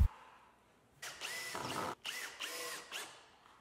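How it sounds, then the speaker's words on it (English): A power drill whirs in short bursts, several quick runs with brief stops between them, as screws are driven into pre-drilled wood of an outdoor firewood rack close by. "I used a pre-drill and screws to attach it."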